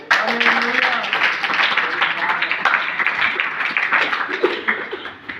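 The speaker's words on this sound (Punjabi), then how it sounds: "ਤਾੜੀਆਂ ਲਾਈਏ" A church congregation claps together during a Punjabi sermon, fairly close and continuous, with a preacher's voice heard briefly at the start and light chatter underneath.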